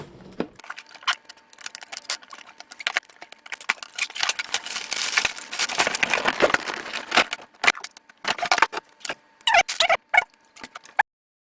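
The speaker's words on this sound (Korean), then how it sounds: "그러면 이제부터 박스를 오픈해 보도록 하겠습니다." Someone opens the box of a Mouldking Jeep Wrangler brick set, with crisp cardboard and plastic crinkling, scraping and scattered sharp taps. The sounds come in irregular bursts, close up, with no talk.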